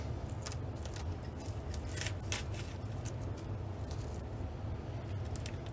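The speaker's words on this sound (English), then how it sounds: "We'll cut that debris off the head and see if we need to do anything as far as line goes." Scissors snipping tarp scraps and weed stalks from the string trimmer head of a 1988 WeedEater GTI 15, heard as close, repeated crisp cuts and rustling in an irregular rhythm without talk.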